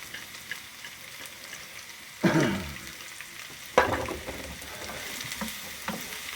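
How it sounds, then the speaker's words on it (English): Onions go into a hot pan for piri piri special fried rice, cooked on a Corsican. A sharp sizzling burst flares up, settles into a steady fry, then a second loud burst follows, with no talking. "I'm going to get the onions going."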